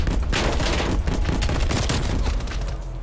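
Rapid repeated blasts from the Streetsweeper shotgun in Call of Duty: Cold War, a dense, loud burst of gunfire filling the whole short stretch with no talk.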